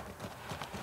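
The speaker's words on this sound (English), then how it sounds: "We can gallop out of here and jump, too." Horse hooves clip-clopping in The Last of Us Part II, a short burst of several quick, faint hoofbeats in an even trotting rhythm, heard alone.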